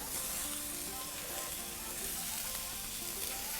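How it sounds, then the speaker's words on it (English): Loud, steady sizzling of smashed beef patties frying on a hot griddle, continuous and close, with no talking. "We're gonna hear that sizzle."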